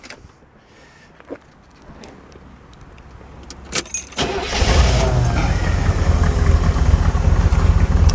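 A 1972 Chevrolet Corvette Stingray T-Top starts up after some key jangling and a few clicks, then settles into a loud, steady, rumbling idle close by.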